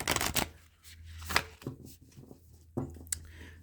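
Alchemy oracle cards are shuffled for a reading, close and quiet, with several sharp riffling bursts separated by softer sliding and tapping.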